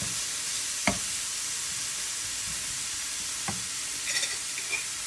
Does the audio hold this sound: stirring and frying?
yes